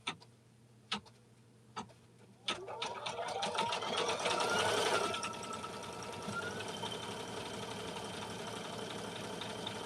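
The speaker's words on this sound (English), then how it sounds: "Now I have it vertically, and it's stitching" A home sewing machine with its thread on a vertical spool stitches indoors. A few sharp ticks and clicks come first, then a fast, buzzing run of stitching, followed by a lower steady hum, close and without talk.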